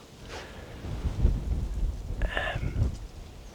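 Wind gusting and rumbling outdoors during a cold-weather hunt, a steady low roar rising and falling across the whole stretch, with a brief brighter rustle midway.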